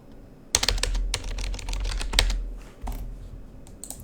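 Fingers type on a computer keyboard during Windows Server configuration, producing loud, close clicks in quick bursts with short pauses between them.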